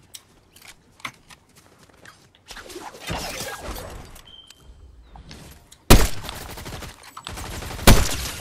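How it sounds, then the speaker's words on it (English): Gunfire in a multiplayer shooter video game, scattered single shots and rapid bursts at varying distances, with two loud sharp cracks standing out near the end and no talk over them. "There's shots in front of us."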